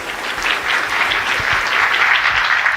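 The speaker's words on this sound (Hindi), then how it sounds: "अनीता का ताली बजा के आप स्वागत करें" An audience in Bhopal claps to welcome a woman named Anita at a Youth Day address, a dense, sustained round of applause that stays loud and steady from start to finish.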